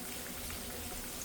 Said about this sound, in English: Everything could get fried up real nice.